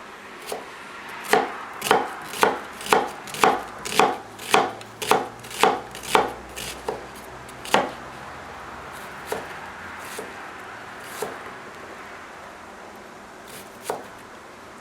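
A kitchen knife finely dices an onion on a cutting board for a sauce: a quick run of about a dozen crisp, evenly spaced chops, then a few scattered slower cuts fading out.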